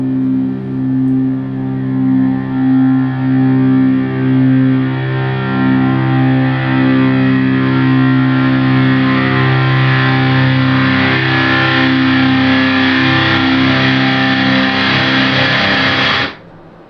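Distorted guitar chord played in reverse for horror film sound design, swelling steadily louder for about sixteen seconds with heavy sustained grit, then cutting off abruptly as if slamming into an impact.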